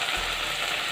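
A steady, loud sizzle fills the pan as tomato puree hits hot oil while cooking squid fry, a bright hiss continuing without pause.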